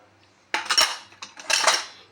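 A metal spoon scrapes and clinks against a bowl while carom seeds go into a mixture, two close, bright bursts of clatter after a brief quiet start.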